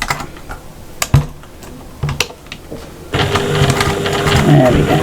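Sewing machine top stitching a square on a cross body bag, with a few clicks and handling noises and then a steady close mechanical run of stitching, with some talking.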